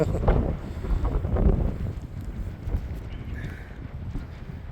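Cold wind buffets a microphone outdoors in Tasmania, making an uneven, gusting low rumble that swells and fades across the moment.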